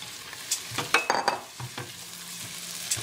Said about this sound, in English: Stir it around there, get it coated with the oil.